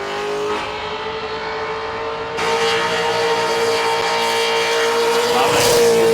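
A Holden Commodore ute engine screams at very high revs during a burnout competition, holding a steady piercing whine that jumps louder partway through, close and relentless.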